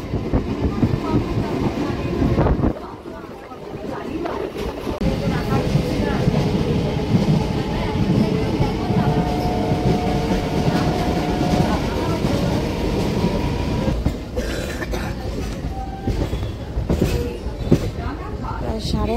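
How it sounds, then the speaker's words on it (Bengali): Local passenger train running on rails, a steady rumble and rattle heard from inside the carriage, with people talking over the continuous rolling noise. "এই ট্রেন ছাড়লো বগুড়া থেকে 8:03 বাজে।"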